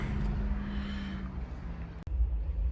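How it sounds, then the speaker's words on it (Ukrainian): A 2020 Mini Cooper John Cooper Works Cabrio drives along with a low, steady exhaust drone and road rumble, close and continuous, with a brief cut near the end before the engine sound resumes. "машина досить динамічна, така наваля з гарним вихлопом, приємно його чути"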